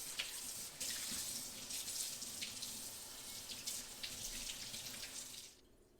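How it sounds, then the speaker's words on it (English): Water running from a faucet into a sink while a Blue Diamond pan is washed, a soft steady rush with small splashes before the flow stops near the end. "Now that we've washed our pan"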